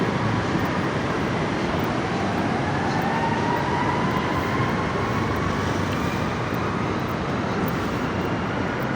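An MRT train passes through Quezon City with a loud, steady roar of wheels and rails, a continuous close rumble and hiss lasting throughout.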